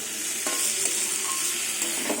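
Banana stem frying with pumpkin and garlic in a pan, a steady loud sizzle broken by a few sharp scrapes of a spatula stirring.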